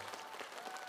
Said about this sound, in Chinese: 你们掌声不是很响